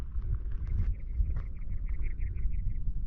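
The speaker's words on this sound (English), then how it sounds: "I don't know if you can hear those birds" Small birds chirp in a rocky desert wash in Joshua Tree National Park, a run of short, fairly faint repeated calls over steady wind rumble.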